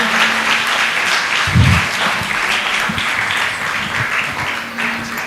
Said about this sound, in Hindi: सब तालियों के गूंज के साथ।